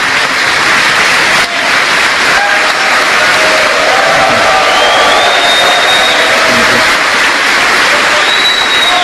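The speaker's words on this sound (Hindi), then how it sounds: "मोदी जब बोल रहे थे तो सांसद अमेरिका में खड़े होकर ताली बजा रहे थे।" Members of the US Congress give a standing ovation during a speech by Narendra Modi, with loud, dense applause and scattered cheers and whoops sustained throughout.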